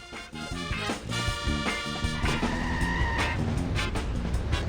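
A car in The Simpsons: Hit and Run game accelerates with a loud, continuous engine drone, its tires squealing and skidding in repeated bursts, all close and without speech.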